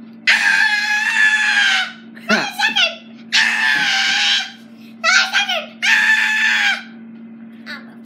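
A person lets out a series of loud, harsh screams in bursts of about a second each, with short gaps and brief vocal noises between them, over a steady low hum.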